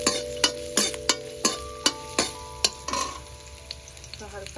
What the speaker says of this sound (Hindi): तो हल्का हल्का ही फ्राई करूंगी.